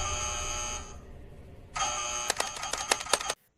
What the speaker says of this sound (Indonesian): tiba-tiba bel pintu kamarnya berbunyi